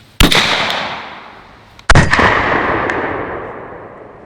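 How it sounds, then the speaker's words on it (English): Two loud gunshots of 9mm rounds fired from a 12 gauge shotgun barrel insert, sharp cracks about two seconds apart, each trailing off in a long echoing decay outdoors. "Now for the 9mm out of the 12 gauge barrel insert."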